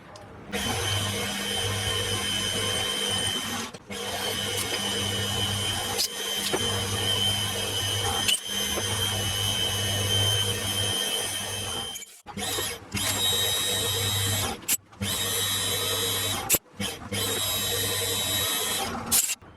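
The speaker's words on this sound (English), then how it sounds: "this little 6mm chamfering tool, even though it's broken on the edge, it's still fine out here on the tips, cuts a cleaner 6mm hole than the damn reamer does" A small 6mm chamfering tool, chipped at one edge, cuts a hole in metal with a steady, loud drilling whine that runs for long stretches, broken by a few brief stops and restarts.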